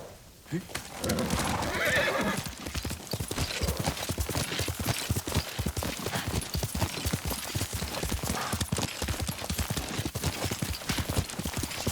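A horse in the video game Ghost of Tsushima whinnies loudly, followed by a steady stream of clip-clopping hooves at a brisk, even rhythm, close by.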